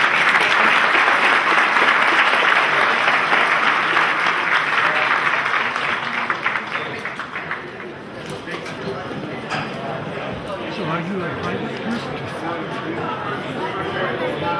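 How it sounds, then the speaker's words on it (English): An audience gives candidates at a Bonner County candidates forum a round of applause, strong clapping that gradually thins out and blends into crowd chatter and murmuring voices. "Give your candidates a round of applause."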